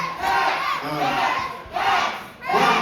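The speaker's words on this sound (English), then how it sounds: "I can barely hear a word you're saying over this crowd roaring for their hometown hero, Hex" An indie wrestling crowd in Lompoc, California roars loudly for hometown hero Hex, sustained yelling and cheering that swells in waves, dips briefly, then surges again.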